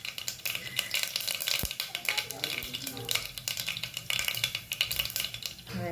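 Mustard seeds crackling in hot oil in a pan, a close, dense sizzle broken by rapid sharp pops and a few light clinks of a utensil.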